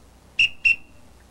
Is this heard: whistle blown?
yes